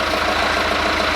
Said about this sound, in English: The tractor is turning on them so that they're gonna hit the door